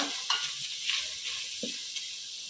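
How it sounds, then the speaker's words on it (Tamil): Ginger garlic paste sautés in an oil-free AMC cookware pan, giving a steady close sizzle broken by a few soft scraping stirs. No one talks. "இஞ்சி பூண்டு போட்டு கொஞ்சம் லைட்டாக வதக்கிக்கோங்க"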